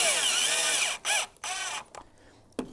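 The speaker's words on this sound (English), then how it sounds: "I've got this nice handy dandy drill." A handheld power drill whirs in short bursts: a long run that winds down, then two more spins separated by brief pauses, close and loud with no talk.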